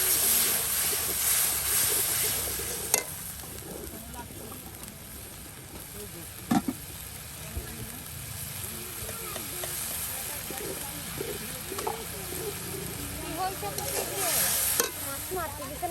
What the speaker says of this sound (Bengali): ভালো করে কিন্তু মশলাটা কষিয়ে নেওয়ার পর সেই দৌত করে নিয়ে আসা মাছগুলো দিয়ে দেওয়া হবে